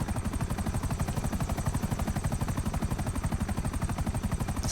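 A large, massive Russian-style helicopter flies in GTA 5 Online, its rotor giving a steady, loud, rapid thudding chop that continues evenly and close by with no talking.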